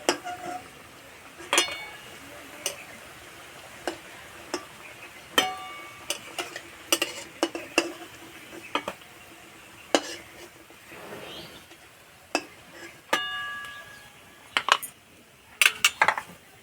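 Metal utensils clink and tap against a frying pan as fried pitha is lifted out, with sharp, irregular knocks spread over a quiet kitchen background.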